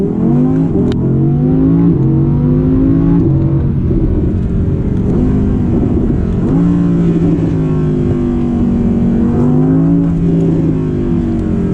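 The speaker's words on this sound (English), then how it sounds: "you get all those backfires, all those crackles on the exhaust." Audi R8 Performance pulling away from a dead stop in first gear, engine roaring loudly and climbing in pitch through repeated revs, with a sharp pop early on and crackles on the exhaust.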